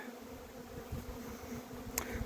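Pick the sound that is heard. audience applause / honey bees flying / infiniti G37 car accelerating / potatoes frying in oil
honey bees flying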